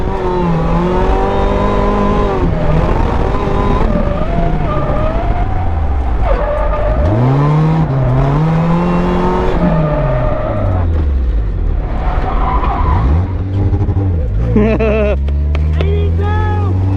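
Toyota AE86 drifting through a high-speed corner entry on the Rockingham race track: loud, close engine revving that swoops up and down in pitch, with tyre noise and some voices underneath.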